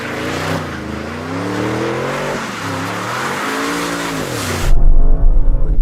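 A new BMW M5 drifts, its tires shrieking in a loud, wavering squeal for several seconds. The squeal then gives way to a close, rough engine roar.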